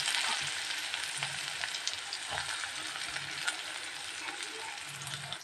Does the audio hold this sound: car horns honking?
no